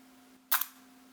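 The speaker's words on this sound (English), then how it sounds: "So when we push the shutter," A Zeiss Ikon Contaflex film camera fires its shutter once, a single sharp close mechanical click with a faint second tick just after, in a quiet room.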